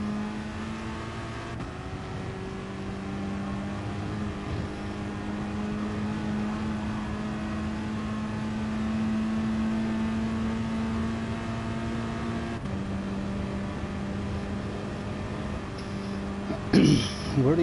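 A race car's engine in Gran Turismo Sport drones steadily at high revs, its pitch stepping with two gear shifts and climbing slightly between them, loud and close, with a brief burst of sharper noise at the end.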